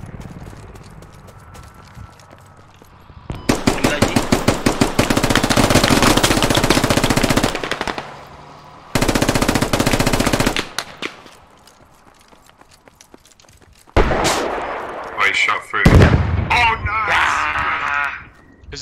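Automatic and rapid gunfire in the military shooter game Squad, loud sustained bursts with short gaps, followed by chaotic mixed shots and noises toward the end.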